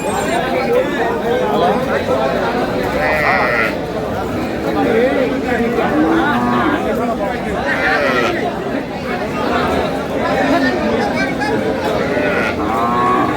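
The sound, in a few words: cow and calf mooing at cattle market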